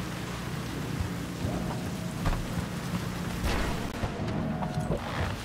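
Steady rain hiss in the video game Cyberpunk 2077, with dense drops on surfaces, a low rumbling bed and a couple of soft distant booms, continuous and fairly quiet throughout.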